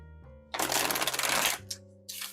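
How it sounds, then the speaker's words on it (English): A deck of oracle cards being shuffled close by: one loud riffling burst lasting about a second, followed by two shorter flutters, over a faint steady background tone. "And shuffle top of the deck."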